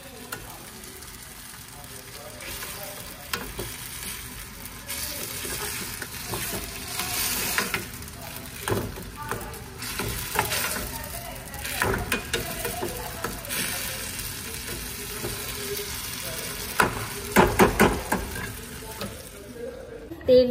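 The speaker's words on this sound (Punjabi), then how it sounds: "ਚਟਨੀ ਨੂੰ ਤੜਕਾ ਲਾਉਂਦੀ ਪਈ ਮੰਮੀ ਮੈਂ" Oil sizzles steadily as chutney is tempered, a continuous crackling hiss with occasional sharper pops and clinks, fairly quiet and close throughout.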